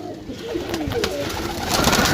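Pigeons coo softly in low, rolling calls amid a steady rustling background, close by.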